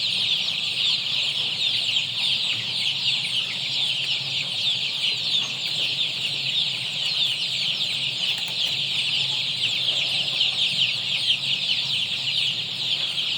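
Large Lohmann hens cluck and chatter continuously inside a heated henhouse, a busy overlapping flock sound that stays steady throughout with no talk.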